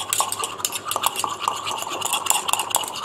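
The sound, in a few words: stirring homemade night cream with a silicone spatula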